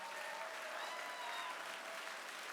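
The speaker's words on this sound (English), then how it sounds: "Give these bidders a big round of applause." Sustained, even applause from an audience at a Hall of Achievement auction event, fairly faint and distant, a steady wash of clapping throughout.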